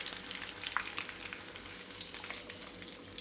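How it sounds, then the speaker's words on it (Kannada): Grated potato frying in hot oil gives a steady, close sizzle with a fine crackling hiss and a few soft pops, with no voices. "ಇನ್ನು ಸ್ವಲ್ಪ ಫ್ರೈ ಆಗಬೇಕು"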